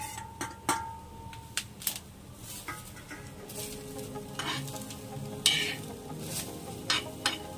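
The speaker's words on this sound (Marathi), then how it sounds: "आता आपण ह्याच्यामध्ये हे ओलं खोबरं टाकून घेऊया। ओलं खोबरं सुद्धा चांगलं भाजून घ्यायचं आपण।" Fresh grated coconut roasting with onions in a pan for Kolhapuri misal sizzles steadily while a spatula stirs and scrapes the metal in repeated close, irregular strokes, with occasional sharp clinks and no talk.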